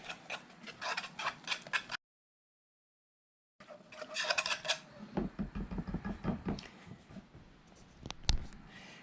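Spoon stirring powdered sugar into a mixture in a bowl for homemade apple fritter batter, with close, repeated scraping and clinking strokes in bursts, a brief pause, then denser stirring and a louder clack near the end.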